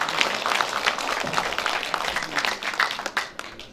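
Audience at a Korean-Japanese song contest applauding as an announcer is welcomed: lively crowd clapping with clear individual claps, loud at first and thinning toward the end.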